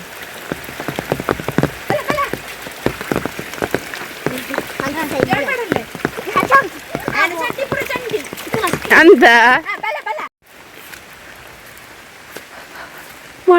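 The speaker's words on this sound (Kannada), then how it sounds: "ಮಳೆ ಮಳೆ ಬಂದಿದೆ" Rain pattering steadily on a surface, a dense hiss of close drops running under lively talk from several people, which stops abruptly near the end and leaves a quieter patter.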